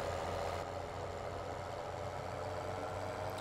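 A tractor from Farming Simulator 2017 idles steadily with a trailer hitched on the back, giving a constant low engine drone at moderate, unchanging volume throughout with no talk over it.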